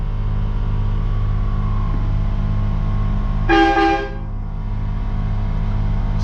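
Air compressor on a truck horn setup kicking on with a brief tonal burst near the middle, heard over a steady low engine or vehicle rumble, fairly loud and close, with no talking.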